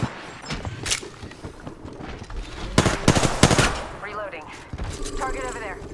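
Rapid automatic gunfire erupts in an Apex Legends battle royale match on PS4, loud bursts of shots clustered together, with in-game character voice callouts and chirping effects layered around them.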